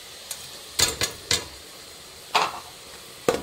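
Green chillies and spices being mixed in a pan while cooking pumpkin curry, heard as a few sharp scraping, sizzling bursts spaced irregularly against a quiet background, no talking.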